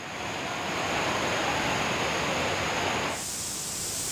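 Floodwater rushes as a torrent through the temple town of Tirupati around Kapileshwara Swami temple, a broad, loud, steady roar of water that drops off sharply near the end.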